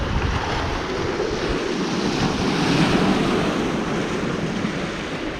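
Choppy sea waves below a windswept Scottish clifftop, a continuous roar of surf mixed with heavy wind buffeting the microphone, loud and unbroken.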